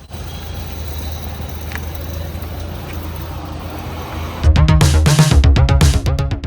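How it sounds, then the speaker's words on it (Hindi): A Mahindra Thar Roxx AX7L diesel automatic approaches: after a few seconds of low, steady background rumble, a loud engine roar swells up suddenly and stays close and strong to the end. "ये गाड़ी आएगी, थोड़ा सा शोर शराबा वैसे लग सकता है, लेकिन आप सुनना आप ध्यान से"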